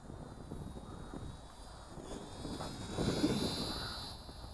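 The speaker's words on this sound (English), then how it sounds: "Neat airplane." An Eachine A6M Zero four-channel RC airplane flies outdoors, its small electric motor giving a faint, thin buzzing drone that swells slightly as it passes, with wind noise and no talking.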